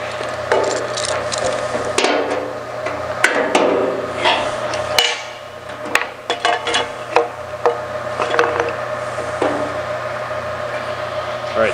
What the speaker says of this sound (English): All right, so you're hitting the flange.